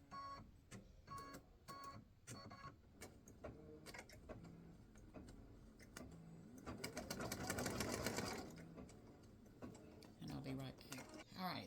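An embroidery-capable sewing machine stitching star shapes onto a Father's Day greeting card, a steady rapid needle clatter with short pauses and shifts in rhythm, rising to a dense buzzing run near the end, close and clear.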